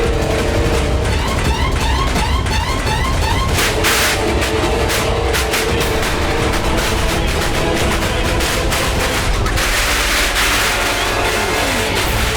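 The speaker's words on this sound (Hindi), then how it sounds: "तुम्हें पटाखे इतने पसंद है?" Firecrackers explode in a dense, continuous volley of loud bangs and crackles, with sharp bursts standing out over a constant roar.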